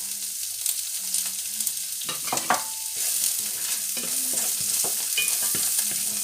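Red onions frying in olive oil left from fried salt cod, a steady close sizzle broken by clacks and scrapes of a utensil stirring them in the pan, with no talk.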